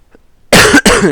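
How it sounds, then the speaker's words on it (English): A single loud, close cough, harsh and broken into two bursts after a brief quiet moment. "Sorry about this cough."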